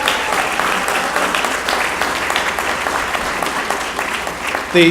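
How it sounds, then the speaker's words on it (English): Steady, loud applause fills the room at a sports hall of fame induction dinner, with a voice breaking in right at the end. "I'd really like a round of applause for Pam if I could for tonight"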